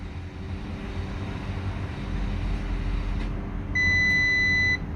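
An Audi S5 sounds a single steady electronic warning beep for a parking brake fault in diagnostic mode while its rear calipers open. The tone lasts about a second near the end, over a low continuous mechanical hum.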